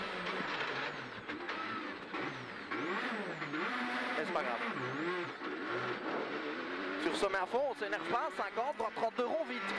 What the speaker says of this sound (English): This is Cedric De Checo in his Peugeot 208.